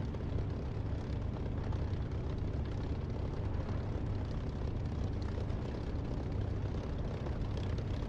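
A steady, loud aircraft engine drones on a taxiing plane in a DCS or War Thunder flight simulator, a dense continuous rumble with no change in pitch and no talking.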